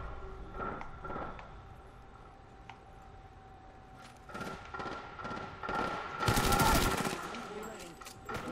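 Automatic gunfire crackles through an Apex Legends match in scattered bursts that build into a loud, dense volley near the end, over a steady background hum.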